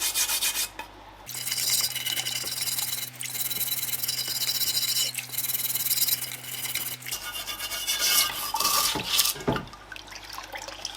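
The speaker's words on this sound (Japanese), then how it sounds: "これちょっとワイヤーブラシでこすってもう少し落としやすくしておきます" A wire brush scrubs a Toyota 4A-G engine head cover in steady, continuous rasping strokes, close and loud, with a low hum running underneath for much of the time.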